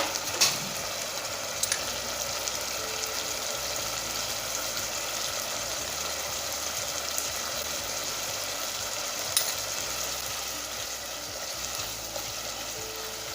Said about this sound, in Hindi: 2 मिनट हम तकरीबन भूनेंगे ताकि हमारी सब्ज़ मिर्च का भी टेस्ट मसाले के अंदर आ जाए